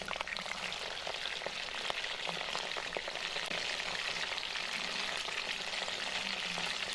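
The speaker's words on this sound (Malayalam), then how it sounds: "കോളിഫ്ലവർ അതിലേക്ക് ഇട്ട് കൊടുക്കാം." Cut cauliflower pieces fry in hot sunflower oil with a steady, dense sizzle and crackle that carries on alone, without a break.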